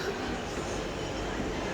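An Istanbul metro train gives a steady, loud rolling rumble with wheel and carriage noise, continuous throughout without a break.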